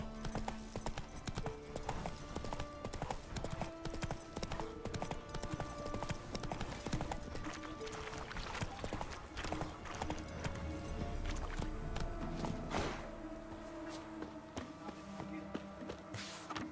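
Horse hooves clip-clop at a steady walking rhythm while riding in a video game, with background music playing throughout.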